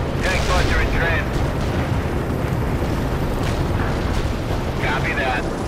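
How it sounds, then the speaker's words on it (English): Heavy artillery barrage in the war game World in Conflict makes a dense, continuous rumble of explosions, loud throughout, with radio chatter voices talking over it. "Heavy artillery barrage inbound."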